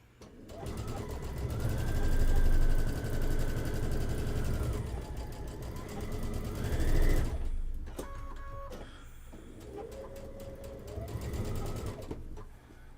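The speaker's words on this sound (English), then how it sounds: "So I can just line up the two edges and sew them through." A home sewing machine runs in sustained motor whirs with rapid stitching, stitching two quilt pieces together along lined-up edges; it runs loud for about seven seconds, stops briefly with small clicks, then resumes more softly.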